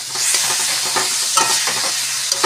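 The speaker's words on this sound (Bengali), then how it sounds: "এবার ভালো করে নেড়ে চেড়ে" Star fruit chutney with a pinch of salt stirred in a hot pan, a spoon scraping and pushing the mixture over a steady sizzle, fairly loud and close throughout with no talking.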